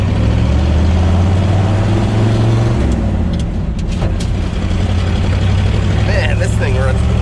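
Custom 1952 Diamond T 332 pickup truck driving on the street, a loud, low rumbling engine drone that holds steady the whole time, heard from inside the cab with people talking over it.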